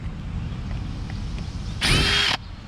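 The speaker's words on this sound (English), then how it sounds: "grab our drill again." A power drill runs in one short burst of about half a second, backing screws out of a leaking sprinkler valve. The high whine sits near and loud over steady outdoor background noise.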